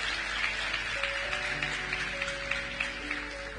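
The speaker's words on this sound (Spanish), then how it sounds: "le damos un fuerte aplauso al Señor" Congregation clapping together in church after a scripture reading, a steady, moderately loud patter of many hands, with faint sustained musical tones underneath.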